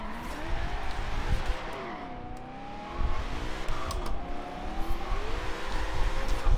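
Lamborghini race car in Forza Horizon 3 sliding through a race, its engine drone rising and falling with shifting revs and tire slip, steady and loud throughout with no talking.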